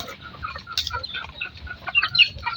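Hens run toward feed with a burst of clucking and squawking at close range, broken calls overlapping across the yard amid steady farmyard rustle, with a couple of sharper cries toward the end.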